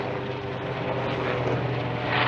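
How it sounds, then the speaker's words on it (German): Military helicopters fly overhead during an exercise, their rotors making a steady, throbbing drone at moderate distance with no talk. "Etliche Hubschrauber sind unterwegs, ich darf also nicht so hoch fliegen dann nachher."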